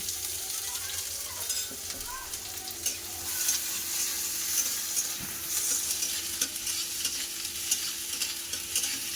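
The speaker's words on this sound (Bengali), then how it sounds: "পেঁয়াজটা হালকা করে ভেজে নিয়েছি" Onion, nigella seeds and chopped green chilli fry in hot oil with a steady, continuous sizzle and occasional stirring scrapes, close and alone without talk.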